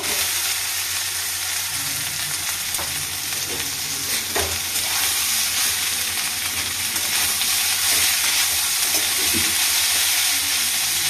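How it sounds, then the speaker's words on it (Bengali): Chopped banana stem frying with onion in oil, a steady loud sizzle close by with intermittent spatula scrapes and stirring knocks, no speech. "আলু ভাজার মতন থোড়টা পেঁয়াজ দিয়ে ভাজবেন"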